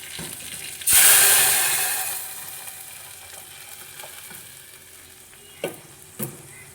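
Cooked dal tipped into a pan of frying green chillies, a sudden loud hissing surge of sizzle that gradually dies down, followed by a quieter simmering crackle and two short clinks of a spoon.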